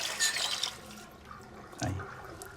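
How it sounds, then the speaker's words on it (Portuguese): A razor dipped into hot water with a short splash and swirl, preceded by a louder burst of running water from a tap, with a faint liquid slosh near the end. "Agora bota o gilete na água quente."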